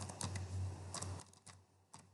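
Rapid clicking of keys on a computer keyboard while entering a name into a form field, in quick uneven bursts with brief pauses, close and fairly quiet.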